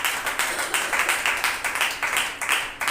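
A church congregation at a Sunday service claps together in a steady, rhythmic beat, with loud, evenly spaced clapping throughout and no speech over it.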